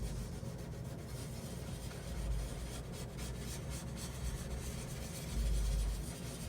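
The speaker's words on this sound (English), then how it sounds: "I can get away with trying to use a block to sand" A block drags back and forth as it sands the finish on a 1965 VOX Apollo IV bass guitar, a soft, steady rubbing hiss that continues close and quiet with no speech.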